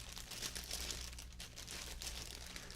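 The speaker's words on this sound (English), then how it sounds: "So I just thought they might make some interesting crinkle noises." Plastic bags of two different thicknesses are crinkled by hand, giving a close, continuous rustling and crackling with small bursts and pauses and no talking.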